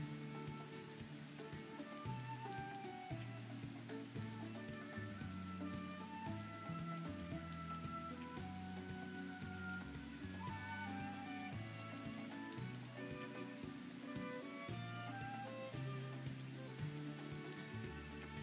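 Rain falls in the video game Atelier Ryza 2 as a steady, close hiss that runs the whole time beneath continuous melodic game music.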